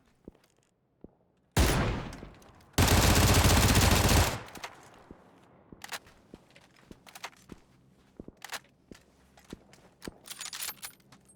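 A decoy grenade in PUBG mimics gunfire with two loud, dense bursts of rapid shots at close range, followed by scattered sharp cracks and distant pops over a quiet background.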